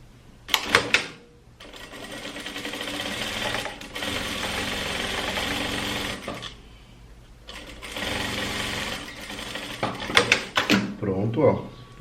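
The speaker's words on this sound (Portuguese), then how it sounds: "Eu vou fazer uma costura francesa, que é costurar do lado correto, ó, da peça." A straight-stitch sewing machine sews a French seam on a trapeze dress with puff sleeves, whirring in two steady runs of a few seconds each, broken by handling clicks and someone speaking between bursts.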